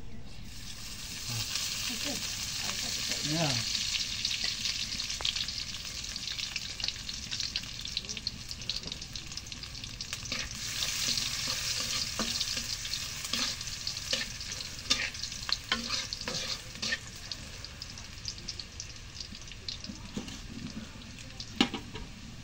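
Cooking oil sizzling in a pan while bhuna khichuri is made on a rainy day: a loud, steady frying hiss runs throughout, with scattered crackles and pops, stirring and faint background voices.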